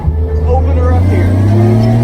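A 75-year-old Chevy's engine revs up under acceleration, a loud, close, rough droning roar climbing steadily in pitch, heard from on board, with a voice briefly over it.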